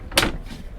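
A large storage drawer in the galley of a Prestige F4.9 yacht slides once with a quick, close swish and soft knock, heard alone against quiet background hum.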